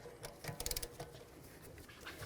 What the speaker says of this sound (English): I can continue on by tightening this, and that'll drive in the caliper piston